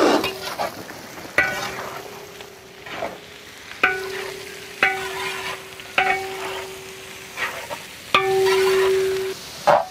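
Onions with green chillies stirred and frying in a pan for a Kerala tapioca (kappa) biryani, a steady sizzle broken by repeated scraping stirs and utensil knocks against the pan, close and moderately loud, with no talking.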